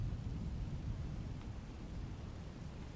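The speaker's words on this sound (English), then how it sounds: "I'm going to make it rain." Steady rain hisses at low volume in a video game, a soft continuous wash of noise with no speech over it.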